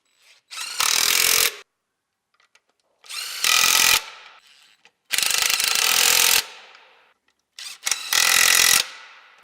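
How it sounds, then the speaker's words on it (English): Power ratchet tightening bolts on a Cummins ISX diesel intake manifold, four separate loud bursts of rapid clicking whir, each about a second long with quiet gaps between, no talking. "Reinstall the 4 bolts, holding the intake manifold onto the factory elbow."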